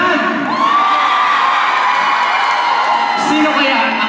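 Loud crowd shouting and cheering at the Miss Marinduque Centennial Queen 2020 beauty pageant, a sustained roar of whoops and yells from a large audience with no pause.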